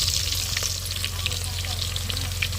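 Chopped onions frying in hot oil for a Sunday mutton pulao, giving a steady, close crackling sizzle with dense spitting pops that carries on unbroken without any speech.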